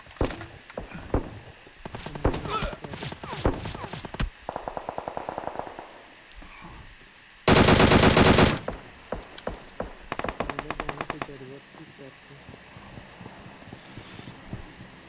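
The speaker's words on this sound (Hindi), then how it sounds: "किसने गोली चलाई?" Video game gunfire crackles in rapid automatic bursts and single sharp shots, with one loud sustained volley in the middle and several quieter rattling strings around it.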